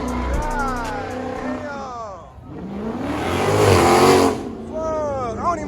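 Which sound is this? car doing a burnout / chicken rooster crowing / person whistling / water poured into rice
car doing a burnout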